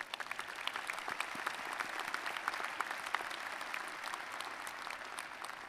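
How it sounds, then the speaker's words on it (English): A large audience claps at a university graduate college commencement ceremony, a dense, even roar of many hands that sounds fairly distant and carries on steadily without a break. "I think that deserves a round of applause."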